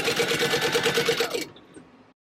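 A sewing machine stitches a leather trunk handle in a rapid, even run of mechanical clatter lasting about a second and a half, then stops with a few faint clicks.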